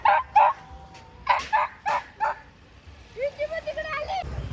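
Several dogs bark in short, yappy bursts at a beach, then one whines with a rising yelp; fairly close and loud, no clear talk.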